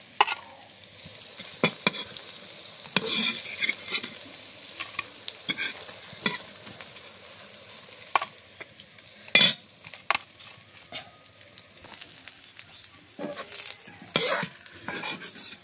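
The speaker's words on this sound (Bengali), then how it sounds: "সুন্দরভাবে বড়াগুলো সব ভাজা হয়ে গেছে।" Pumpkin flower fritters sizzle in frying oil in a pan while a spatula stirs and scrapes in sharp, irregular knocks over a low, constant crackle.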